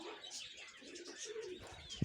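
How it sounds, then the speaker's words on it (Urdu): Various breeds of pigeons at a zoo in Khan Pur, Pakistan, give soft low coos and a few chirps, faint and distant over quiet background murmur, ending with a brief thump. "یہ مختلف قسم کے کبوتر ہیں"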